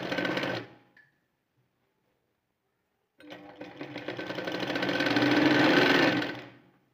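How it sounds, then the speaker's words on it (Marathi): A sewing machine stitches a folded blouse strip, giving a short burst, then a pause of a couple of seconds before a longer run that speeds up and grows louder, close and alone. "दुमडून घेतल्यानंतर आता त्याला आपण शिलाई मारूया"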